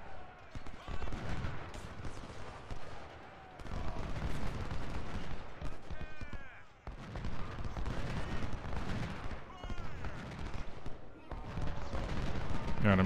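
Cannon and musket fire crackle in the Civil War strategy game Ultimate General, a dense, continuous battle din of repeated shots and booms at moderate volume, with someone talking over it.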